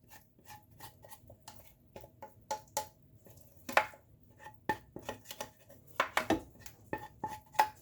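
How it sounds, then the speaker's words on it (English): Cheese sauce being spooned out of a heavy pan over cauliflower, a run of irregular close scrapes and metallic clinks of spoon on pan, some sharper knocks partway through, no voices. "Now we're going to put the cheese sauce over top of the cauliflower. And this pan is heavy."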